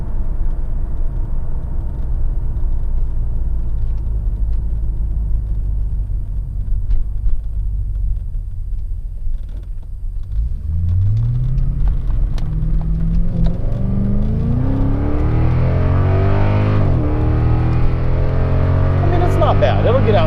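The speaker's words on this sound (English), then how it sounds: "When you step into it, those mufflers do make a difference." A Cadillac XLR engine with aftermarket mufflers idles with a low rumble, then revs up and accelerates hard, its deep muffled exhaust note rising in pitch through the gears.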